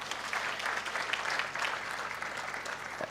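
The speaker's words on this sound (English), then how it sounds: "You can clap for them," An audience at a commencement ceremony applauds in a brief, steady burst of many hands clapping together, moderately distant and even throughout.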